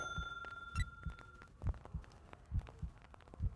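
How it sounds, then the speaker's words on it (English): A steady, pounding heartbeat in a horror video game, with deep low thumps in paired beats repeating regularly under a faint hum, plus a brief metallic jingle near the start. "just that steady pounding sound of the heartbeat in your ears"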